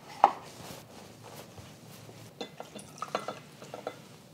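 A lime is cut and squeezed for juice on a kitchen counter: a sharp knife thunk at the start, then scattered soft taps, squishes and drips that grow busier toward the end, with no voices.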